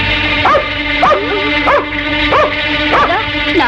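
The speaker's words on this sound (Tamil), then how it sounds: "நாய் வேற இருக்குடி." A dog barks repeatedly in an old 1990s Tamil film scene, sharp yelping barks at roughly even intervals, loud and close over a constant droning background tone.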